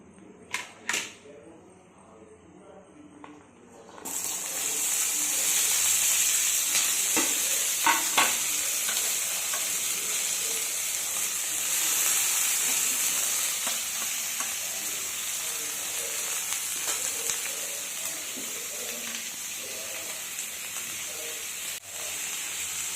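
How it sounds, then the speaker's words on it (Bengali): A few clinks, then vegetables added to hot oil for Maggi noodles burst into a loud, sustained sizzle that hisses steadily up close, with occasional spoon taps over the frying. "এবার আমি আস্তে আস্তে সবজিগুলোকে সব দিয়ে দেবো"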